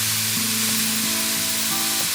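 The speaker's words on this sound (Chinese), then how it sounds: "小火慢慢的煎蘑菇，先别急着加油和水，它会慢慢的释放出水分" Mushrooms fry slowly in a dry pan over low heat without oil or water, giving off a dense, continuous loud sizzle with faint tonal hum beneath and no voices.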